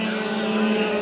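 Race cars battle at Bakersfield Speedway during heat races, a loud, close, sustained engine roar at a steady high pitch with no pause, and no talk over it.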